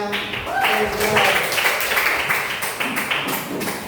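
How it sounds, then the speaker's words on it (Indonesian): An elementary school class applauds a group of classmates, steady scattered clapping running throughout beneath a teacher's voice and children's chatter. "Ini tepuk tangan untuk kelompoknya."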